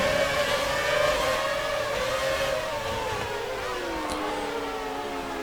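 A 2006 Renault F1 car in F1 2019 at Spa, engine screaming at high revs then pitch sliding steadily down as it brakes toward a hairpin, loud and alone.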